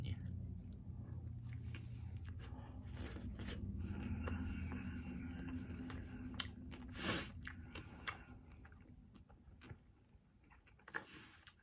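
A McDonald's McRib barbecued pork sandwich being chewed close to the mic, soft wet bites and mastication in uneven bursts with light rustling.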